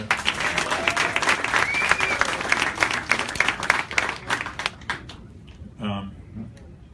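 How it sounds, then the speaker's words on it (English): An audience at a boxing press conference applauds steadily for several seconds, a dense patter of claps close by that thins out toward the end, with a voice speaking briefly over it. "And yeah, you could clap for that"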